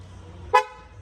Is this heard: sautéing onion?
no